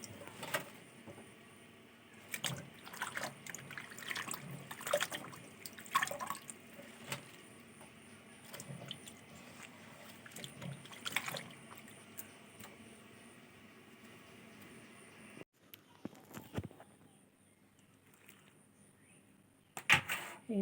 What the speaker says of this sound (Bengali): আর এই যে এইখানে পুঁই শাক কেটে বেছে ভালো করে ধুয়ে নিচ্ছি